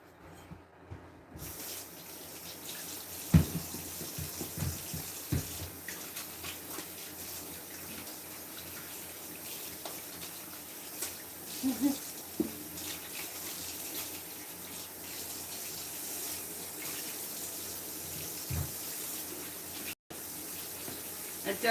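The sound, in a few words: water running from a kitchen tap while washing hands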